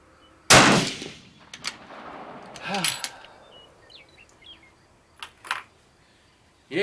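Gunfire at an outdoor shooting range: one sharp, loud, close report rings out, followed by a few fainter shots spaced seconds apart, with birds chirping in the background.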